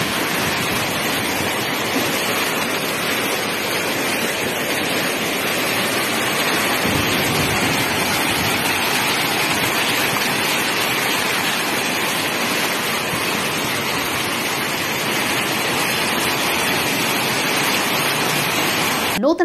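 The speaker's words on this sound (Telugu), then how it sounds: "పుదుకొట్టై జిల్లాలో భారీ వర్షాలు కురుస్తున్నాయి." Heavy monsoon rain and rushing floodwater in Pudukkottai district make a loud, unbroken roar of pouring and churning water that fills the whole stretch without letting up.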